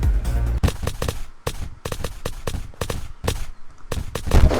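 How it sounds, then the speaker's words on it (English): Gunfire in the survival game Unturned: a string of sharp, loud shots at irregular intervals, some clustered in quick pairs, close and dominant with no talking. "he's shooting me"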